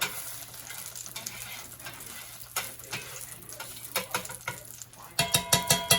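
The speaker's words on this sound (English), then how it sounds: "I'm going to turn this skillet up to almost all the way up to high. I'm going to add a little bit of more olive oil, like this." Olive oil sizzles as it heats in a hot skillet turned up near high, a crackling hiss broken by scattered sharp pops, with a burst of louder clattering, spitting bursts near the end.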